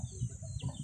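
A black chicken in the foothills of a mountain gives a few short, soft clucks in quick succession, faint and close, with no talking.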